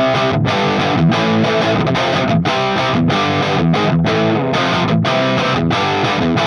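A heavily distorted electric guitar played through an Orange OR-50 tube amp plays dense, driving chords with short rhythmic breaks, loud and saturated throughout.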